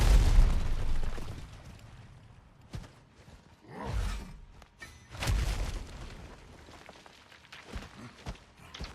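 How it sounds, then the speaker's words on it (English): Thrown bombs detonate in a video game: a heavy blast opens, then sharper pops and booming bursts follow at irregular intervals, with a whooshing roar in between. "Wait till he throws the bombs or something."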